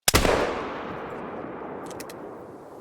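A single loud rifle shot at a moose in theHunter: Call of the Wild rings out close by, followed by a long rolling echo that fades over a couple of seconds, with a faint click near the end.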